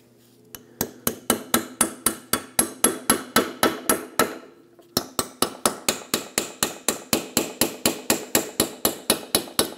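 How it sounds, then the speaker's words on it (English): A hammer and chisel knocking at the rusted wheel hub of a 2012-2020 Ford Focus, two runs of sharp, evenly spaced metallic blows ringing close by, with a brief pause between them. "I'm gonna go right here where this ear gets larger and just gently hammer it."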